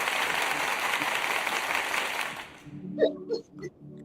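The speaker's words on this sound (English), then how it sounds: "A round of applause." An audience gives Mr. Corey Cofield a round of applause, thick steady clapping that fades out after a couple of seconds, followed by a voice speaking.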